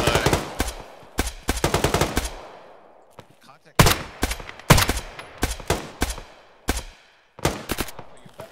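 Unsuppressed gunfire in the Arma military game: loud, close bursts of automatic fire with sharp rapid cracks, separated by short pauses and trailing echoes, with faint talk in the background.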